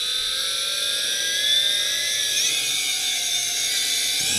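A JJRC H26D camera quadcopter drone in flight gives off a steady, loud, high-pitched whine of buzzing rotors, held continuously and near throughout with slight pitch shifts as it hovers and trims.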